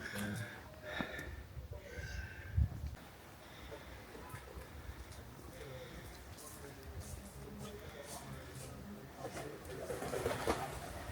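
A pigeon cooing outdoors in the town of Uzerche, soft low coos rising briefly amid street ambience while people talk over it.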